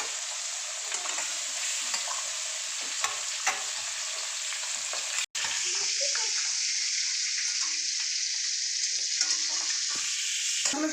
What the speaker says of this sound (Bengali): এই যে আমি মাছগুলোকে ভেজে নিচ্ছি।